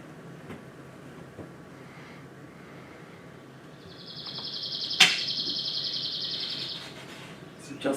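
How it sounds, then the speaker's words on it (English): A northern bird sings one long, uniform rattle of about three seconds. The rattle is fairly loud and rises above a low, steady background hum, with a sharp click near its middle. "And here's the song of a northern bird."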